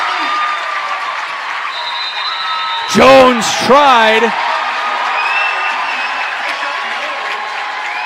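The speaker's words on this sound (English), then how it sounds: "you can hear the Andrean fans cheering on their boys" At a high school boys basketball game, home fans cheer and applaud as a steady crowd roar in a gym, with a couple of loud shouts rising briefly above it and a commentator talking over the noise.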